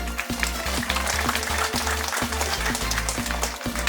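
A crowd gives loud, sustained applause for Catholic association and women's group members at a silver jubilee celebration in Kalapahad, North and Middle Andaman, a dense wash of clapping over steady, rhythmic low beats.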